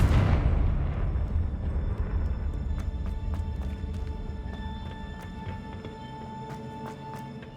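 A Confringo blasting spell explodes in Hogwarts Legacy, a loud booming burst at the start that decays into a long rumbling tail with scattered crackling debris ticks, no talking over it.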